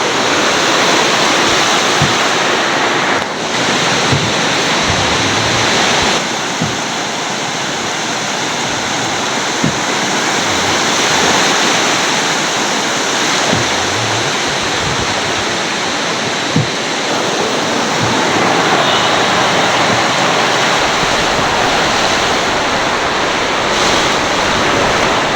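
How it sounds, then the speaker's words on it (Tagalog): Sea waves roll in on the shore in a loud, continuous wash of surf with wind noise and no talk. "Paparating na rin yung dagat. Papalaki na rin."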